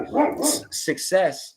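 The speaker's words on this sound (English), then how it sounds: "Sorry, that's our dog." Pet dog barking indoors during a podcast interview, a few sharp yips and barks in quick succession, close and loud, overlapping a voice.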